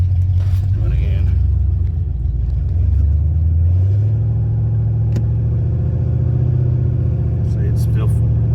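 A Ford car with an AOD transmission stuck in first gear revs its engine in a low, steady drone whose pitch climbs and then holds, while people talk over it.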